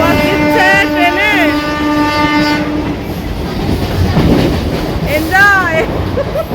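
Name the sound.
train running, heard from inside carriage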